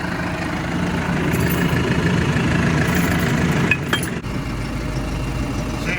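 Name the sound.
Unimog truck engine idling before pulling a trailer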